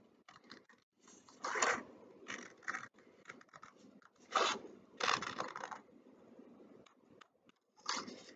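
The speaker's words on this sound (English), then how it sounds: "now I need to cut on the black line" Scissors snipping along the black outline of a paper apple ornament, including its thin stem, in short uneven bursts of crisp cutting with quiet pauses between, close and moderately loud.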